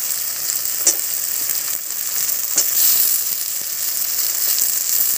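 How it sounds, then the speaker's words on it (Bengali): Chopped tomato frying in a pan for a bhetki fish curry, with a steady bright sizzle throughout and a few sharp clinks and scrapes from stirring, close by with no talking. "আর দিয়ে দেবো টমেটো কুচি"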